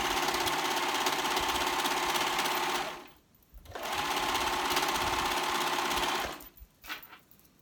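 A sewing machine runs in two steady bursts of rapid stitching along a blanket's fabric edge, each about three seconds long, with a brief pause between and a few soft clicks after, close and loud with no talk.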